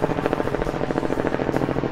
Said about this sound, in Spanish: Y un helicóptero.